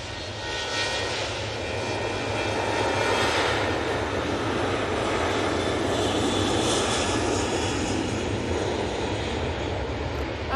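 An airplane taking off from Manchester Airport bound for Ibiza roars steadily with a broad engine rush at moderate distance, swelling slightly and then holding, with no talk.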